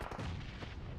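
Gunfire and grenade blasts in a PUBG Mobile esports match crackle in a dense, muffled burst of overlapping shots lasting about a second.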